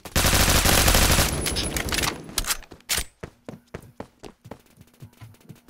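Gunfire in the shooter game Phantom Forces, starting as a loud continuous automatic burst and breaking into a string of separate sharp shots that fade toward the end, with no talking over it.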